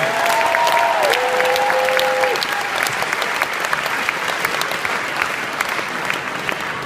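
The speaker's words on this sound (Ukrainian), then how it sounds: "Ще більше аплодисменти." An audience applauds a marriage proposal on stage with dense, continuous clapping that fills the whole stretch; a faint sustained tone rings briefly near the start, then the clapping carries on steadily.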